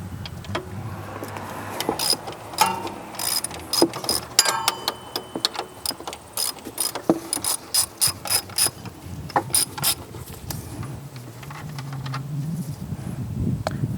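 Ratchet clicking as it turns a 17 mm belt tensioner bolt on a Detroit Diesel 6.2L engine, with bursts of sharp, rapid pawl clicks and pauses between strokes, close by and without talk.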